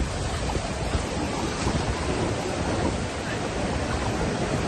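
Strong monsoon wind roars continuously into the microphone at Station 1, Boracay beach, a dense, steady rush of noise with no letup.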